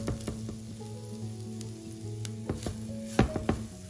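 Garlic powder and ground spices frying in oil in a pan, a soft low sizzle broken by a few sharp clicks and scrapes of a spoon, close and fairly quiet.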